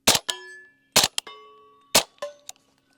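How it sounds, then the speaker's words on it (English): Three suppressed shots from a Q Honey Badger rifle with subsonic ammunition, each followed by a bright ringing clang from a steel target, spaced about a second apart and heard alone, without talk. "All right, we'll shoot some steel."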